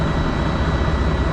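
A DD15 truck diesel engine runs steadily at close range, a dense, loud, unbroken rumble with a thin high whine riding over it, and no voices.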